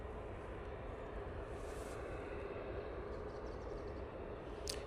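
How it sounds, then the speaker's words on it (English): An Aer Lingus airliner on final approach into Manchester Airport from Dublin, heard as a steady, broad engine roar that holds evenly throughout with no voices over it. "We have the Aer Lingus A380 coming in from Dublin."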